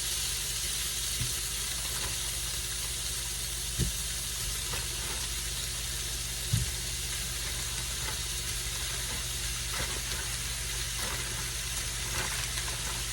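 Potato and cheddar pierogies fry in butter or bacon grease, giving a soft, steady sizzle with a few faint knocks and clicks as they are nudged in the pan.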